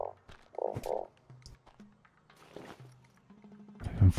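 Croaking of a frog in the desert survival game Starsand: several short tonal croaks repeated in quick bursts, then quieter game ambience with soft footsteps and a louder thud at the end.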